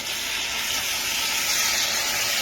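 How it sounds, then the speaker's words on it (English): Meat for Irish stew sears in a hot pot, giving a loud, steady, close hiss of sizzling that holds unbroken throughout. "you sear it until it turns a nice little brown"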